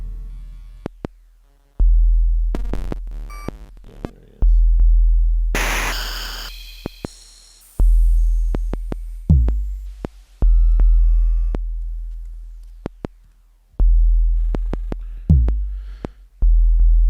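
Electronic tones from a Nord Micro Modular synthesizer, sharp plucks, chirps and a burst of noisy static, alternating with deep booming bass pulses and abrupt silences.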